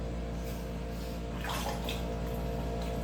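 Water runs steadily from a tap, a continuous splashing flow with a slight surge partway through, close and even, with no speech.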